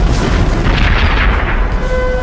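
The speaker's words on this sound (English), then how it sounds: "Shortly after midday, Napoleon ordered a barrage of his most powerful cannon." A heavy cannon artillery barrage from a Napoleonic-era battle thunders as a dense, continuous roar of booming blasts, loud and sustained throughout.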